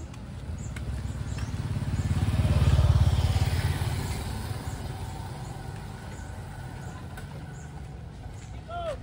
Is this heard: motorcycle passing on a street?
yes